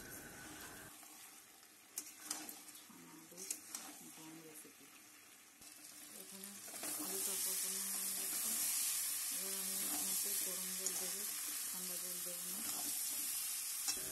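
Baby potato curry (aloo dum) sautés in a pan, starting with quiet sizzling and a few stirring knocks, then swelling into a louder, steady hiss near the end, with some faint background murmur.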